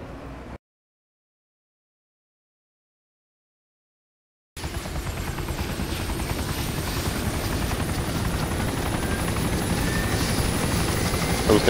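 A helicopter flies in a video game. After a few seconds of silence, a loud, continuous rotor and engine drone cuts in and holds steady to the end.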